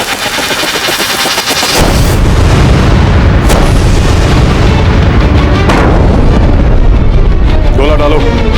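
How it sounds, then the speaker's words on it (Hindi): Heavy cannon fire booms loudly and continuously through a battle scene in a historical drama about Maharana Pratap and the siege of Chittor fort, with dense blasts and roaring rumble filling the whole stretch. "बरसाते रहो तोपों से गोले"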